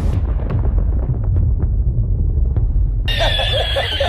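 A meteorite in an animated cartoon explodes with a loud, sustained, rumbling burst. Brighter tonal sound layers over the tail of the blast.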